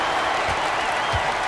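Arena crowd noise from an NBA 2K22 basketball game, a steady, loud roar of cheering and applause that fills the whole moment without pause.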